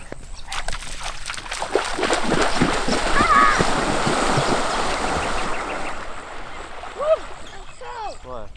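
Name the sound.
people splashing into the sea for a swim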